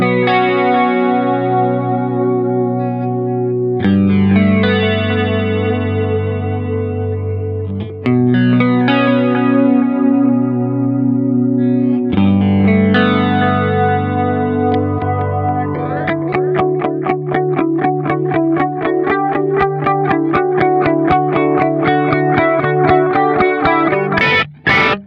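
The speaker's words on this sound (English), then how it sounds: "lush modulated flange with delay" A guitar rings out sustained chords with a sweeping, jet-like flanger and trailing delay repeats, steady and loud throughout.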